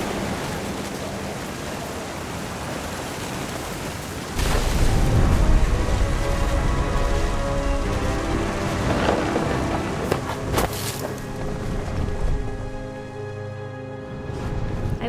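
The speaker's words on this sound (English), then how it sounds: "The thunder sounded much too close and full of angry power." Rain pours down in a stormy scene from the game What Remains of Edith Finch, a steady hiss that swells into a deep rolling rumble of thunder midway, then trails off into continued downpour.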